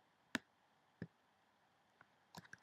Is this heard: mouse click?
yes